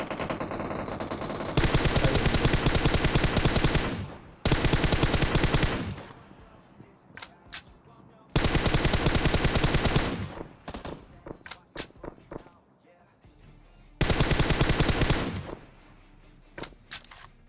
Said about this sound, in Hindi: जिस हिसाब से ये गोलीबारी चल रही है ना यहाँ पे